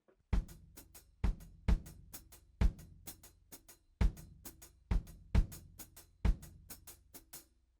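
A drum kit groove plays alone at moderate volume: kick drum with foot hi-hat, and a right hand striking just after them in offset groups of three, giving sharp, evenly spaced hits with a slightly lopsided rhythm.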